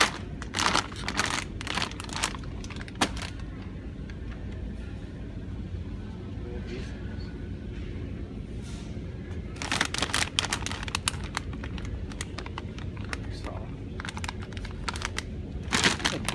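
Small resealable plastic bag crinkling and rustling in irregular bursts close by during a grocery haul, with soft background noise and occasional faint voices.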